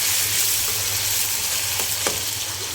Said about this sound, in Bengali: এবার মশলাটা কিছু সময় একটু কষিয়ে নেবো, যাতে করে মশলা কাঁচা গন্ধটা চলে যায়।